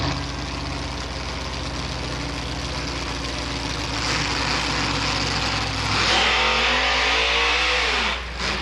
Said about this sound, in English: Right now, we're going to have a drag race between these two trucks, between Boris and Simply Irresponsible.